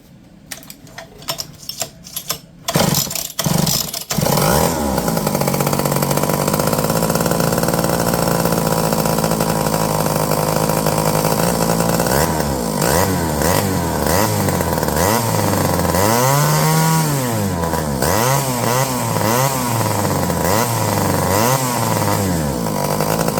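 A McCulloch 30 Series chainsaw with carburetor issues fires after a few sharp pulls and clatters, then runs loud and close, holding a steady drone before revving up and down in repeated swells.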